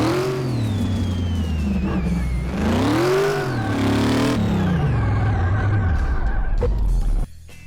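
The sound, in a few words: supercharged V8 car engine in video game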